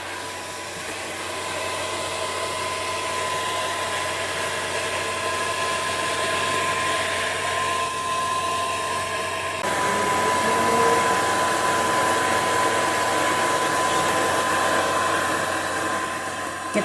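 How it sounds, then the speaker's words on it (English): A heat gun blows hot air onto a rubber seal in a continuous, steady whooshing hiss with a faint whine. It holds for most of the stretch, shifting slightly in tone partway through. "So I'm going to take the heat gun and I'm going to separate it like this."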